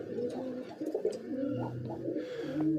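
Several pigeons coo in overlapping, continuous low rolling calls on a rooftop, fairly close, with a brief hissy burst of noise near the end.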